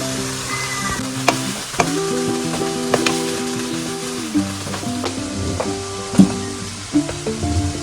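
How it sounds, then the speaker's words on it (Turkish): Minced meat sizzles in oil in a pan, a loud steady crackle punctuated by regular spoon knocks and stirring scrapes against the metal; no talking. "Bir çay bardağı kadar sıvı yağ ekliyoruz."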